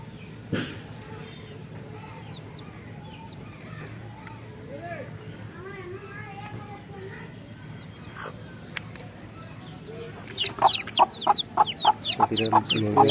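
Young desi chicks chirping while being vaccinated against Ranikhet disease: faint scattered peeps over a steady background, then a loud burst of rapid, high chirps close by near the end.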